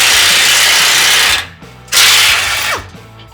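An air impact wrench loosens tight metal skid plate bolts underneath a 2022 Ford Bronco, firing in two loud, close bursts of ratcheting hammering with a short pause between them.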